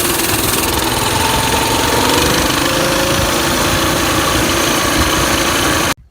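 A small original mini bike engine runs steadily at a constant, loud drone throughout, with a buzzing, lawn-mower-like tone, then cuts off abruptly at the end.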